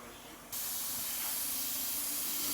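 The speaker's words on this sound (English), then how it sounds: "Then when you come back, you do a full overspray, like for about this distance, see?" An airbrush sprays a broad overspray across a portrait painting, beginning abruptly as a steady, close, continuous hiss that holds evenly to the end with no voices.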